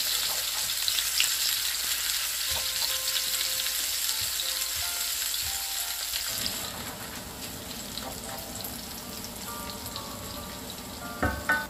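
Garlic, onion and ginger sautéing in hot oil give a steady crackling sizzle, joined partway through by stirring and scraping in the pan and a few sharp clinks near the end.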